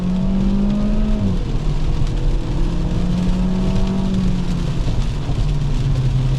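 A light Hyundai Veloster Turbo hot hatch, under 3,000 pounds, drives hard through turns on a damp road, its engine droning loud and steady with rising and falling pitch as it accelerates, heard close from inside and alone.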